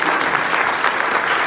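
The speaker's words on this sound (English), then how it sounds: "Let's give him a round of applause." An audience applauds steadily, dense and loud throughout, a continuous wash of many clapping hands with no talk over it.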